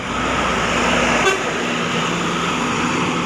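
A bus horn sounds one steady, loud blast for about a second and a half, close by over continuous road and engine noise from passing buses.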